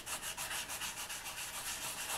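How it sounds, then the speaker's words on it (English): 400 grit sandpaper is rubbed lightly by hand over a polymer clay piece, giving a soft, even rasping in quick back-and-forth strokes, close up with no voices. "I'm not sanding very hard. I'm just sanding lightly"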